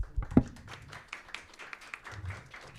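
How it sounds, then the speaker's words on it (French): A studio audience on a TV discussion set about discrimination claps steadily for a guest being welcomed, a faint, even patter of many hands that runs throughout at a moderate distance, with a brief low thump near the start. "Fatma, sous vos applaudissements."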